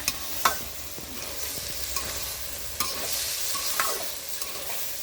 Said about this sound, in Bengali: এখন নাড়াচাড়া দেবো।